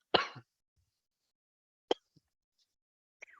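A single sharp cough and throat clear up close from someone with a cold, followed by a couple of faint short throat sounds after a pause of silence.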